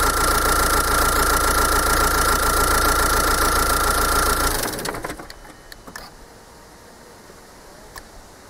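Diesel car engine with a Bosch CP3 common-rail fuel pump idles loudly and steadily with a continuous mechanical clatter, then shuts off and sputters to a stop, leaving quiet background with a few faint clicks.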